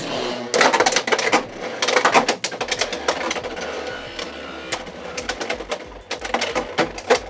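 Beyblade X tops are launched into a stadium, then clatter and rattle against each other and the walls in rapid clicking bursts, loud and close, followed by a rhythmic knocking spin toward the end.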